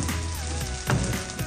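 Fried rice with sausage frying in a pan, a steady close sizzle with soft scraping and clinking as it is stirred, one louder stir-and-toss burst partway through.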